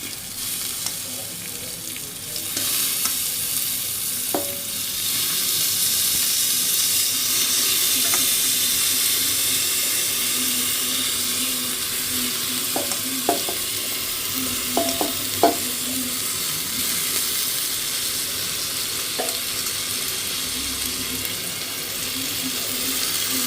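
Gobindobhog rice is stirred in a pressure cooker for basanti pulao, giving a steady frying hiss with occasional sharp clicks of the spoon against the pot, close and continuous.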